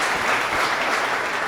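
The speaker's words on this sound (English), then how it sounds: "Round of applause." Audience applause at a live startup pitch event, a steady dense wash of clapping heard close and loud throughout, with no talking over it.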